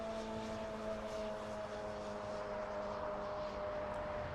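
Copa Airlines jet taxiing after arrival at LAX toward Tom Bradley International, a steady distant engine whine with a sustained hum, faint and continuous, no voices.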